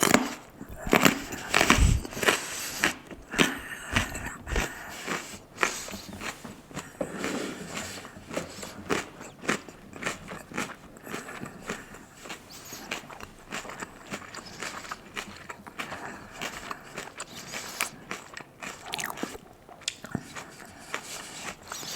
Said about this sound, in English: the snapping off of the carrots in my mouth is too loud